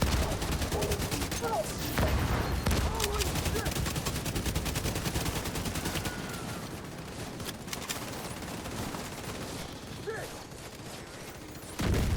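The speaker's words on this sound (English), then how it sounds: "Explosions happening." Loud gunfire and explosions from a first-person shooter video game, with dense rapid bursts, some machine-gun rattle and booming blasts that run almost without pause for about twelve seconds.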